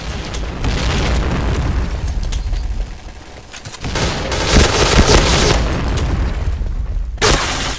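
A bomb blows up in a shooter video game, with heavy booming blasts and crackling bursts that swell and drop in loud waves, briefly dipping before another roaring burst.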